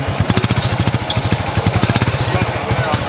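A 2021 Super Star 70cc self-start motorcycle engine fires up and runs with a loud, steady, fast-pulsing putter close by, with no voices over it.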